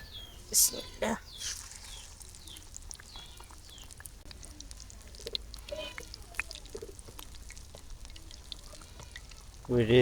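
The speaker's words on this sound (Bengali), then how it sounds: "আমি এক এক করে এই পালং শাকের চপ ভাজি নিম" Spinach and lentil chops frying in hot oil, giving a faint, steady sizzle through the whole stretch, with a few louder bumps at the start and end and a voice talking now and then.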